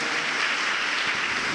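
A church congregation claps loudly together during a sermon on Jesus's love, a dense, even patter of many hands sustained throughout without a break.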